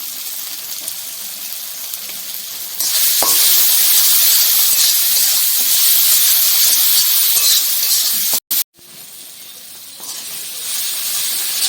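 Spices with chili powder, garlic and panch phoron fry in hot oil for a fish curry. A loud, close sizzling hiss bursts in after a quieter start, then briefly cuts out before returning.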